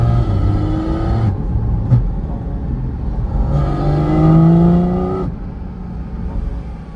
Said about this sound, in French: Et franchement, la sonorité de la GT4 RS, sublime.